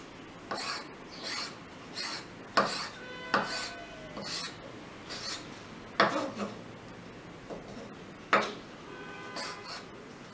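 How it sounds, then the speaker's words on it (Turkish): A knife cuts a tomato in half and into cubes on a cutting board, producing a steady series of separate crisp knocks roughly every second or two, with faint handling noise between them. "Domatesimizi de ortadan ikiye bölüyoruz."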